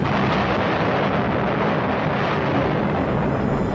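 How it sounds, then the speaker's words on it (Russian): A deep, sustained roaring rumble like a massive distant explosion, filling the whole clip at steady loudness with no voices. "В 5 часов утра в центре города слышится взрыв чудовищной силы."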